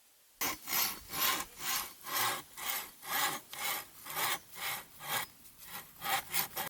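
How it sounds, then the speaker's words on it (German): Rhythmic back-and-forth sawing through wood with a machete's saw-tooth edge, about a dozen steady rasping strokes, close and clear with no talking. "Und jetzt schauen wir uns mal an, ob man damit auch gut sägen kann."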